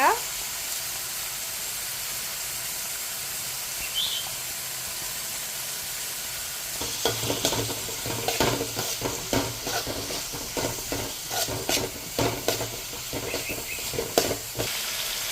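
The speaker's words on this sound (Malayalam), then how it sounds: "ഇനി നമുക്കിത് നല്ലപോലെ ഇളക്കി കൊടുക്കാം" Ginger-garlic paste and onions frying in a pan for chicken curry: a quiet steady hiss at first, then vigorous stirring with rapid scraping and clattering over a louder sizzle, close up.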